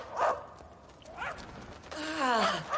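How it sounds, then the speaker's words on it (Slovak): Dogs set loose give a few short barks and yelps at moderate distance, ending in a longer whining, wavering howl, with faint background noise between them. "Púšť na toho bezočivca psov."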